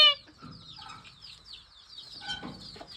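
Chickens cluck in short bursts near a small farmyard coop where a goat is tethered, with a rooster-like call at the start and intermittent clucking through the rest.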